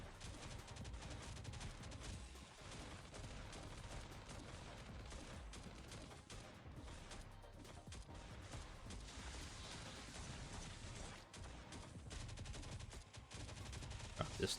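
Turret gunfire in the Last Day on Earth survival video game, dense sustained bursts of automatic fire rattling steadily and loudly throughout, with battle noise piling up and growing heavier near the end.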